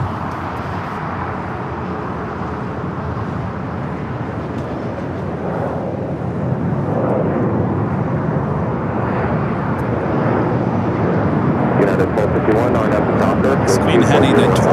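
A Boeing 747-8 Intercontinental airliner arriving at LAX roars steadily as it approaches, its broad engine rumble swelling louder over the second half, with traffic and ambient noise underneath.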